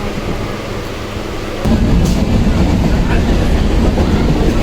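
A moving train is heard from inside a carriage as a loud, steady rumble with rhythmic rail clatter. The noise jumps to a heavier, louder roar partway through and stays there.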